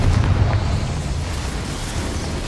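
Confringo fire spell explosion from the video game Hogwarts Legacy: a loud, sustained booming blast with heavy low rumble that stays steady for the whole stretch, heard alone without speech.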